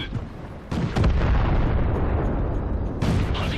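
Tank cannon fire in World of Tanks, aimed between rail carriages, lands as two heavy booming shots about two seconds apart, each followed by a rolling, rumbling tail.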